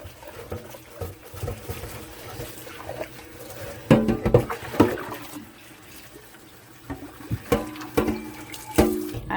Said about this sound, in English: which is perfect for just cleaning out my crock pot